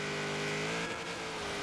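V8 Ford De Luxe coupe hot rod with 1,000 hp in Forza Horizon 3, its engine accelerating in a steady high-revving drone with strong harmonics and a slight pitch dip partway through, no voices.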